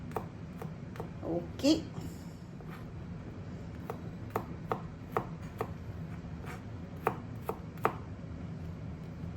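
Garlic cloves chopped with a knife on a cutting board while cooking Filipino monggo, a series of sharp, irregularly spaced knocks close by, with a brief spoken word near the start.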